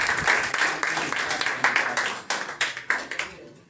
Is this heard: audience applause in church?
yes